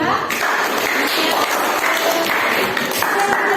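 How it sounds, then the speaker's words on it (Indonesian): A classroom group claps for a student group after its presentation, steady close applause running throughout with some chatter mixed in. "tepuk tangan untuk kelompok 3"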